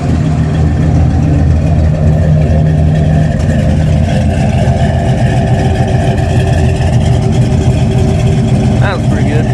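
A 1970 Impala with a 406 small-block engine running on a road test drive, a loud, continuous low engine drone heard from close by with shifting tone as it pulls away.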